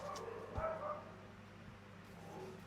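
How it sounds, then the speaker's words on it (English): A single dog bark sounds near the start, quiet and slightly muffled against a low background hum, with no talk. "Bark of confirmation."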